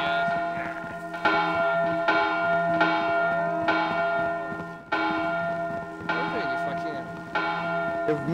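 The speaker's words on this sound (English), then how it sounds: "Why are you ringing the bell?" A bell tolls repeatedly in an online multiplayer video game, loud and steady with a long ringing sustain, strokes arriving roughly every second over a continuous tonal hum.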